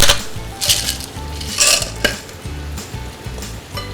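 Butter, thyme and garlic sizzle steadily in a pan for a liver pâté, with a utensil repeatedly stirring and scraping against the pan in a close, busy rhythm.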